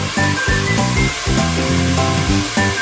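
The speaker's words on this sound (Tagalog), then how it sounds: "atin na po siyang i-blower" A handheld hair blow dryer roars steadily while drying hair after a Brazilian hair treatment in a salon, a loud continuous whoosh with music playing underneath.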